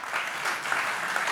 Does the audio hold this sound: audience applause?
yes